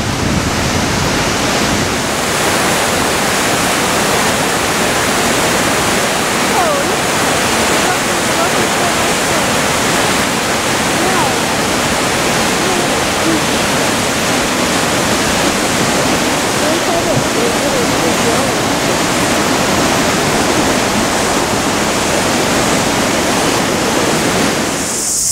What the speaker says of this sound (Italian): Queste sono cascate del fiume Waikato, che è il fiume più lungo della Nuova Zelanda